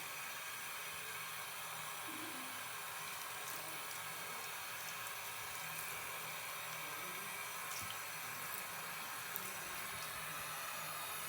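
Soapy hands rinsed under a running tap, a continuous, even hiss of flowing water with no breaks, steady and moderately faint.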